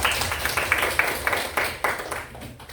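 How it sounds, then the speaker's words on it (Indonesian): Classroom applause for a student group during a pharmacy lesson on medicine storage, a modest burst of clapping from a class with loose, uneven claps fading toward the end. "tepuk tangan untuk kelompok 3"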